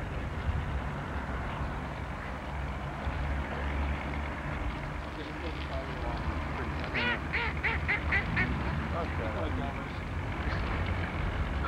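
Ducks and geese quack and honk in a cluster of short calls midway near a bridge in Germany, over a constant outdoor rumble of traffic and wind, with people talking throughout.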